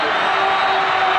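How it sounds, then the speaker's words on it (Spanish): Crowd roar fills a basketball arena as Peñarol clinch the 2009-2010 Argentine Liga Nacional final against Atenas de Córdoba, a loud, steady, dense ovation with no breaks across the short span. "La ovación de la gente"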